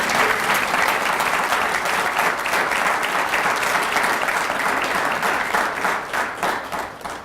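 An audience at an annual recognition ceremony applauds Steve Davis, CEO of Bob Evans, with dense, sustained clapping that stays loud and even throughout and thins slightly at the end.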